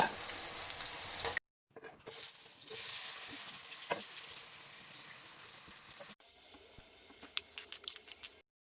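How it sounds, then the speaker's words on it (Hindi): Potato pieces deep frying in hot oil give a soft, even crackling sizzle, fairly quiet and broken by brief silent gaps, with light tapping near the end. "बाकी के हाफ जो हम लोगों ने पोटैटोज़ रखे हैं उनको भी फ्राई कर लेंगे।"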